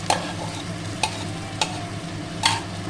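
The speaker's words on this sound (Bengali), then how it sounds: "এবার আমি ভেজে রাখা মাছের মাথাগুলো দিয়ে দিলাম।" Fried fish heads drop into a pan of cooked vegetables for Malabar spinach chhyachra, giving a few sharp clatters and stirring scrapes over a steady low background hiss, with no voices.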